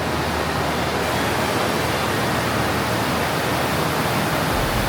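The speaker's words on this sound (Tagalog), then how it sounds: "Tapos lumalakas na yung agos, naririnig na natin. Yan o, umaagos na yung tubig dito." Loud, steady rush of the Tinipak River flowing, close by and continuous, a dense broadband roar with no voices.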